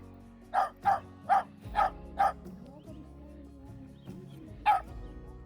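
A dog barks close by, five quick barks in a row, then a pause and one more bark, with faint background noise.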